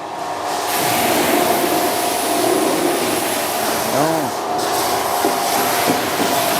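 A woodworking sawdust machine runs steadily in a factory, a loud continuous mechanical roar with a faint whine, briefly dipping near the middle.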